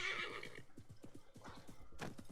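A horse whinnies loudly and clearly in Assassin's Creed Mirage, with a bright neigh at the start, then steady clip-clopping hoofbeats and another snort near the end, without any talk.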